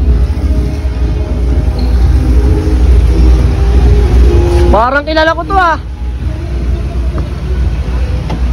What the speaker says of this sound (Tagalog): Mukhang may puting sasakyan ah.